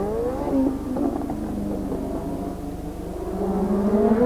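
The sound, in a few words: Formula 1 Brabham BMW race cars, 1984 Detroit Grand Prix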